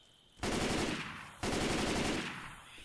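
An M16A4 rifle fires in full-auto bursts in Left 4 Dead 2: two dense, loud rattling volleys close up, each lasting about a second.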